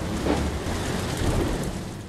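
Heavy rain from a storm at sea in a maritime search and rescue ship simulator game: a loud, steady, dense wash of rainfall with a low rumbling undertone, continuous throughout and with no voices.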